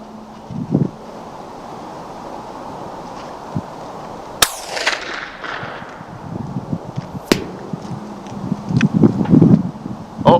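A .22LR rifle fired at a target 670 yards away, heard outdoors as a few sharp, isolated cracks over steady wind noise, with faint distant taps and knocks scattered between.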